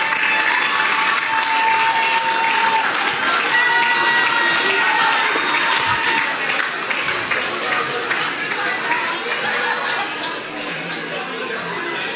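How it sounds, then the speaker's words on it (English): An audience at a Bible quiz applauds a girl, sustained crowd clapping mixed with chatter and a few cheers, steady and loud for a long stretch before easing slightly near the end. "Let's clap for her."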